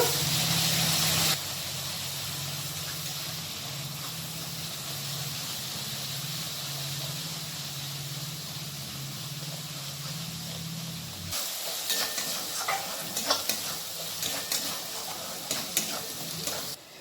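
Onions frying with a ginger, garlic and green chili paste, a steady sizzle and hiss that drops after a loud opening burst, then brisk stirring scrapes and clinks near the end.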